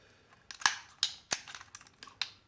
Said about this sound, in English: And then cut exactly the same way again, trying to line that fibre cable as straight as possible.